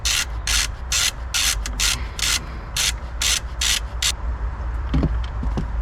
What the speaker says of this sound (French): donc vous dévissez la vis tout simplement